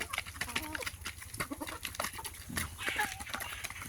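Tiger breed chickens and a rooster, foreign poultry raised the local way, cluck in repeated short calls at close range, with farmyard background noise.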